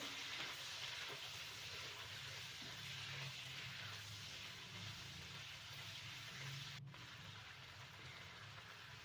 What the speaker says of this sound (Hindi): तो अब मैं इसमें ऐड कर दूँगी गोश्त। थोड़ा सा इसको मैं भून लूँगी